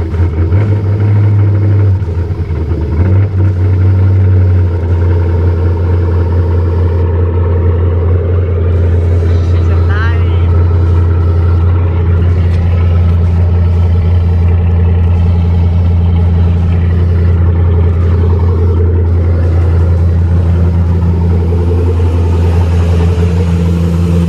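Chevy LS 5.3 V8 converted to E85 with large injectors, a loud close engine rumble that runs steadily throughout with a deep low drone and slight shifts in pitch.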